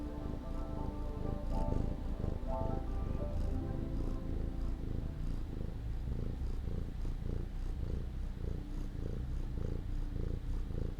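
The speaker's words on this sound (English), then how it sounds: "She's also like the loudest purr ever." Chloe the cat purrs loudly and steadily up close, a continuous rumbling purr with rhythmic breathing pulses throughout, no voices over it.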